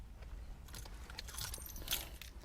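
Car keys jangle close and fairly quietly in short, uneven metallic bursts while someone looks for them before starting a car to test a newly fitted Blaupunkt Las Vegas 1000 Android player.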